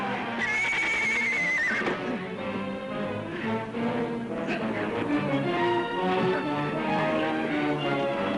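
A horse whinnies loudly near the start in a 1950s Western setting, its high wavering call fading into a busy bed of music and background sound that continues to the end.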